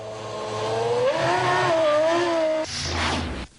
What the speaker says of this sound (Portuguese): onde Mark Webber acelerou pela primeira vez o R5